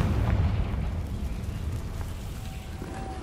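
In Hogwarts Legacy, a Confringo spell bursts into a heavy, rumbling explosion that is loudest at the outset and then trails off in a low, sustained roar.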